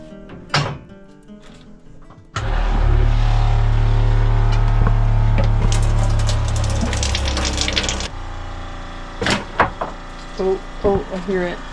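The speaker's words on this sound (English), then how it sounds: "I hear the water running" On a sailboat during a leak test, a steady rush of running water pours for several seconds, framed by nearby clunks and knocks, with people talking around it.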